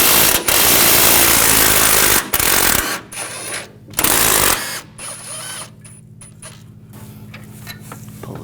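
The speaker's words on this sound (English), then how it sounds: "Using a 15mm socket, we're going to take these bolts out." Ratchet and socket work on engine mount bolts of a 2014-2018 GMC Sierra 5.3L V8, with bursts of loud rattling clicks broken by pauses, then quieter intermittent mechanical clicking.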